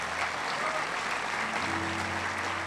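A crowd applauding steadily, dense clapping that fills the space with no pauses.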